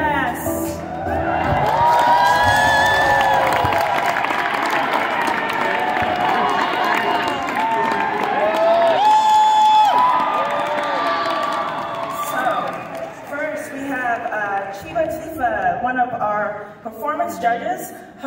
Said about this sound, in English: Please give them a round of applause for our cosplay guests!